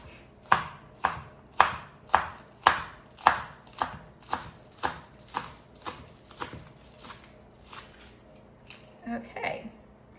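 Green onion tops being chopped with a knife on a board: about fourteen crisp, evenly spaced cuts, close and loud, slowing and fading toward the end, followed by a brief shuffle of the pieces.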